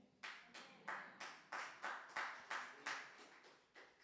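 About nine separate hand claps from a small group, evenly spaced around half a second apart, each a sharp burst that fades, at a church gathering.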